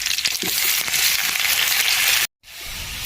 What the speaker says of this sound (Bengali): একই তেলের মধ্যে গরম মশলা দিয়ে দেবো, কালো জিরে দিয়ে দেবো, কোচানো পেঁয়াজটা দিয়ে দেবো।